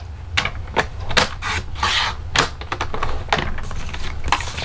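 A 3.5 by 3.5 inch piece of card is cut for a 5 by 7 birthday card, a quick string of sharp, dry scraping clicks and rasps close by with no talking.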